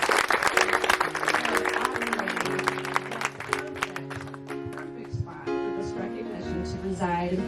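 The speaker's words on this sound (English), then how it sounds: "We also want to applaud Peninsula Township, and especially Township Clerk Becky Chown." Audience applause at an outdoor lighthouse dedication ceremony, dense clapping through the clip with sustained musical tones and voices layered over it, continuing steadily at moderate loudness.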